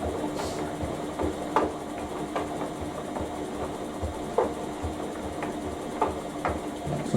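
A Beko WMB 714422B Excellence washing machine running: a faint, steady churning hum with soft periodic thumps and clicks from the drum.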